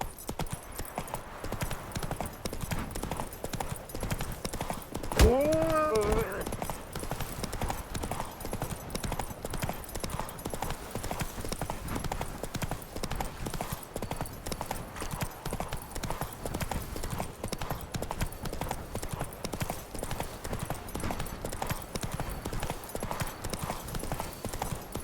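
Horse hooves in The Witcher video game, a steady, rhythmic clip-clop at a trot lasting throughout, with a brief whinny early on and a short spoken word.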